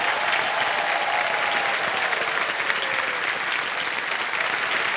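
Sustained clapping from a studio audience at the Kaun Banega Crorepati game show, loud and even for the full stretch with no voices over it.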